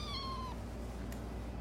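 One short, high kitten meow opens the moment, followed by near silence with a faint low hum and a tiny click.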